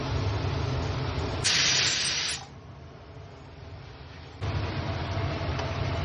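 A spice paste of onion, tomato and ginger hits a hot pan with a loud hissing sizzle that bursts for about a second, then settles into a softer, continuous frying crackle.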